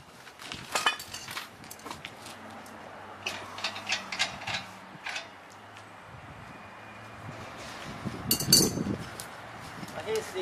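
A ratchet tightening bolts on a scooter rack, quiet clicking bursts spaced through the stretch with softer metallic clinks and a short louder burst near the end.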